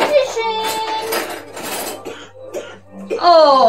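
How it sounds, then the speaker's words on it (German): A person coughs in a few short bursts amid voices and light clinks of dishes and cutlery at a mealtime. "Husten, husten."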